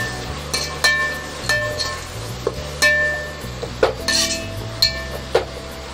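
Metal spoon scraping and clinking in a pot while chicken biryani ingredients, green chillies and mint, are mixed; a steady low hum runs underneath with irregular sharp clinks throughout.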